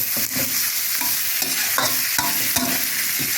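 Spicy eel stir-fried in a pan, a steady sizzle under repeated scraping and tossing strokes of a utensil, close and fairly loud with no voices.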